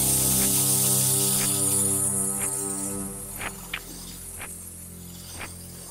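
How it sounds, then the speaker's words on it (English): An airbrush or spray gun hisses steadily as gray paint is sprayed onto a Storm Talon miniature model, a continuous close airy spray with a mechanical hum, easing slightly midway, with faint clicks. "Now, I'm spraying about 3/4 of the model"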